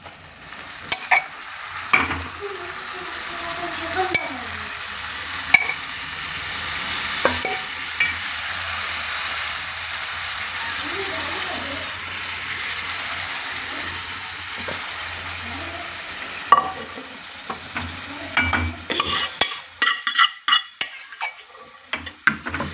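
Cooked dal added to a pan and stirred in, with sizzling, wet stirring and a spoon knocking against the pan, ending in a flurry of sharp clinks; no speech.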